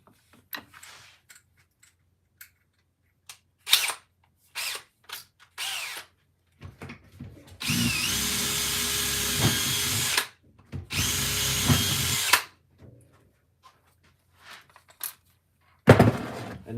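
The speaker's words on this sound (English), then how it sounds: "Right, so next I've got to drill out" A power drill with a 3mm bit whirs in two sustained bursts of a few seconds each, close by, drilling out a broken X-Maxx RC truck, with handling clicks and clatter before and after.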